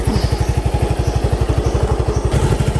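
A motorcycle engine runs close by in a rural Philippine setting, its steady, fast thumping pulse loud and regular, with a brief shift in tone near the end.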